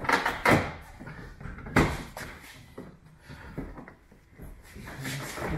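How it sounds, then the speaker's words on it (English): The door of a Smart ForTwo W450 car is opened and shut with a couple of heavy thuds and clunks, close by, among handling noises. "Can you do the honours on the door again for me, Gary?"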